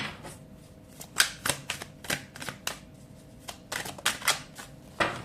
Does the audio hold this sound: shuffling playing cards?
yes